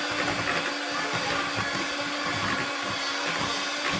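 An electric mixer creams butter and cream cheese together for a cinnamon-roll glaze, a steady, loud, close whirring drone throughout with no talking.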